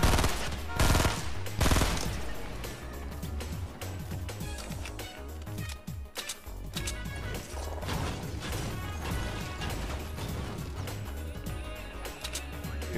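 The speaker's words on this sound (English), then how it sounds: "I'm hearing gunshots, bro." Gunfire in a Fortnite battle: dense, rapid bursts of automatic fire and sharp cracks that stay loud and nearly continuous, with no talking.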